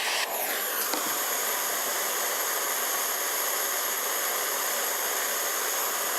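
A hot branding iron presses into a piece of leather, giving a steady, loud hissing sizzle that starts abruptly and holds evenly for several seconds, close up.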